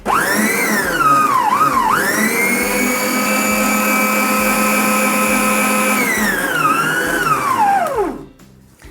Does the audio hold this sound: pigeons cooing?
no